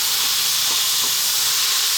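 Fresh tomatoes sizzling as they hit a hot pan of chicken curry, a loud close steady hiss with some bubbling and no voices.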